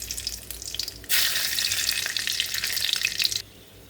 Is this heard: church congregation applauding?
no